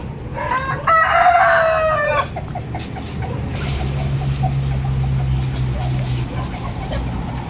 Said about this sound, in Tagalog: Yan yung barako?